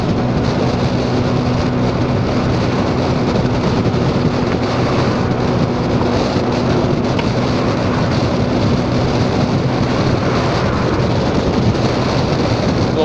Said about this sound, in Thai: ลมแรงมากอ่ะ